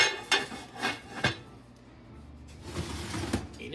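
A lid is set onto a pot holding boule bread dough, giving a few soft knocks and scrapes of metal or ceramic, close and quiet, with a short pause between handling sounds and no talking.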